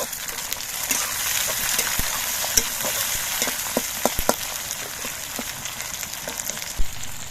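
Tomato pieces and slit green chillies fry in a hot pan with a steady, close sizzle, broken by occasional sharp pops and light stirring clinks, without any talking.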